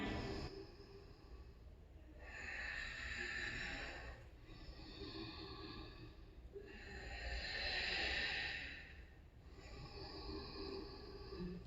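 Slow, deep breaths during a yoga breathing exercise, long airy inhales and exhales swelling and fading in a steady cycle of about three seconds each, close and fairly soft.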